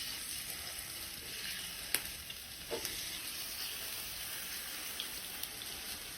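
Chicken patty frying in hot oil, a soft, steady crackling sizzle with a few faint pops and clinks, close by and quiet, no talking.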